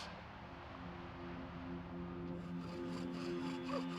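A steady rasping, rubbing friction of wood on wood continues throughout, growing slightly more intense toward the end.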